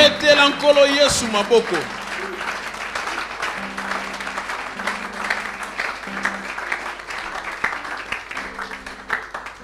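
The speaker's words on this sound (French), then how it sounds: "Acclamez le Seigneur Jésus" A church congregation at a Sunday service bursts into loud applause that fades within a couple of seconds, while a voice carries on over the room.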